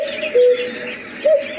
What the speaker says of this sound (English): It sounds like an owl.